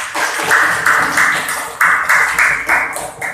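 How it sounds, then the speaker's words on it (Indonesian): A classroom group gives rhythmic applause for group 1, sharp claps landing together in an even beat of roughly three per second, close and fairly loud. "Mari kita berikan tepuk tangan untuk kelompok 1."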